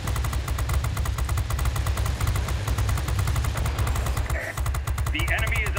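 Aircraft guns hammer in rapid, continuous automatic fire throughout a World of Warplanes dogfight, loud and close over a droning engine, with a few short tonal game cues near the end.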